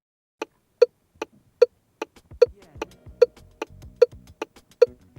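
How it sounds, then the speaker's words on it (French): Car turn signal indicator ticking at a steady normal pace, about a dozen crisp clicks alternating in tone, close and clear with a faint low rumble beneath. "voici le son d'un clignotant qui marche correctement"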